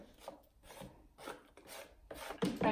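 Water is being stirred into a chalk paint mix. A utensil scrapes and swishes in the container in about five short, soft, close strokes, with no voices.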